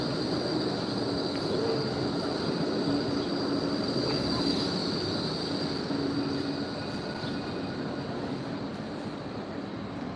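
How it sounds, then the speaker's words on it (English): A Melbourne city tram rumbles past close by, a steady roar of rolling wheels on rails with a faint high squeal, fading slightly toward the end. "of course the tram goes past at the same time"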